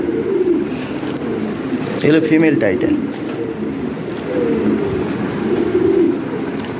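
Lahori pigeons coo continuously in low, rolling murmurs nearby, a dense background of cooing with someone briefly talking over it.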